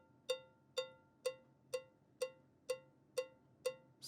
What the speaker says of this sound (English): This is actually just a computer cowbell